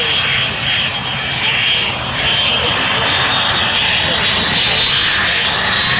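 Loud, steady roar of a military jet engine at a Slovak air base air show, a continuous broadband rush held at close range for the whole stretch with no pauses.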